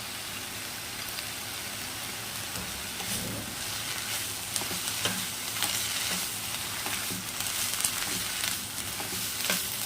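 Bottle gourd leaves with salt and turmeric frying in a pan for a Bengali dish, producing a dense continuous sizzle like light rain, with stirring scrapes and crackles mixed in throughout, no voices.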